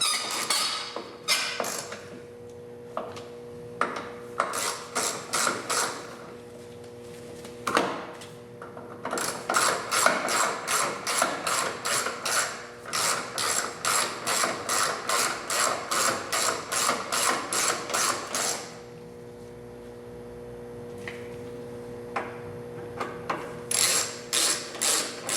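Hand ratchet tightening bolts on an Audi A4 B6 1.8T engine, a close, steady series of rapid clicking strokes in repeated bursts with brief pauses between them.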